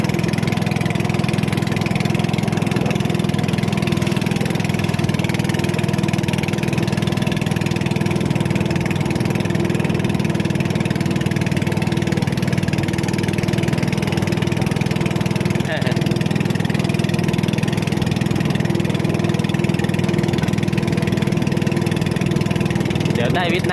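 A fishing boat's engine drones loud and unbroken on a windy sea during catfish fishing, a steady mid-pitched rumble with no pauses.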